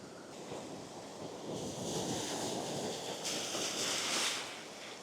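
Sea waves wash onto a Baltic shore, a steady broadband rush that swells and recedes in two surges, mixed with wind buffeting the microphone, with no talking.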